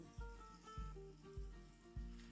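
Fish for Nellore chepala pulusu sizzle quietly in a wide pan, a soft steady fry broken by four evenly spaced knocks of stirring.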